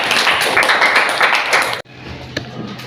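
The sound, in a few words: applause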